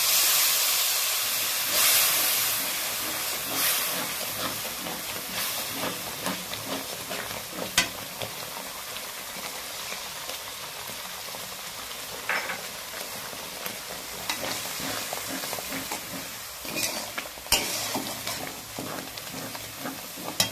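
Spiced water hits a simmering potato curry (aloo dum) in a pan, setting off a loud, continuous hissing sizzle of steam that goes on for about twenty seconds, with occasional stirring scrapes and no talk.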